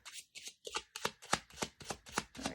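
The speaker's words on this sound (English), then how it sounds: "let's pull some Lenormand cards" A deck of Lenormand cards is shuffled up close in quick, rhythmic riffles, with about ten crisp fluttering bursts in steady succession.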